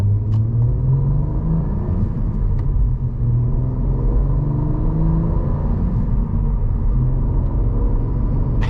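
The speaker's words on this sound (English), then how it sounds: "This is a really good sounding V6, I have to say." A Cadillac CT4-V Blackwing V6 with a 6-speed manual accelerates in a steady, loud low rumble heard from inside the cabin, engine note climbing gradually and continuously throughout.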